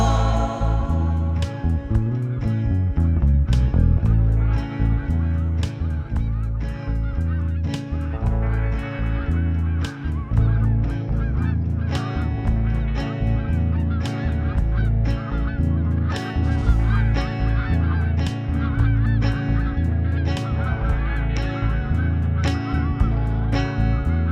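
A flock of geese honks continuously, loud and close, the calls overlapping in a steady rhythmic chorus that runs the whole time with no talking.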